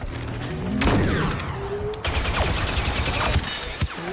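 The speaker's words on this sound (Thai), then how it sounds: "สไนเปอร์ยิงแห้งเลย" Sniper fire in Star Wars Battlefront 2, loud and dense, with sharp blaster shots and booms over a constant battlefield roar, interspersed with whooshing energy bolts and mechanical clatter.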